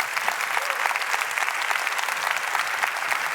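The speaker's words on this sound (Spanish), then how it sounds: "vamos a darle un aplauso a esta pareja" A church congregation claps continuously, a brisk, even wash of applause filling the whole moment without pause.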